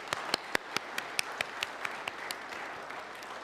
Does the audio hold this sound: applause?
yes